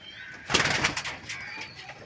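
Madras pigeons of an old bloodline give a short, soft cooing call, a brief close burst of throaty coos with faint background noise.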